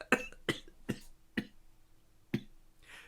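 A person coughs in short, sharp bursts, four in quick succession and then one more after a pause, close to the microphone with no talking.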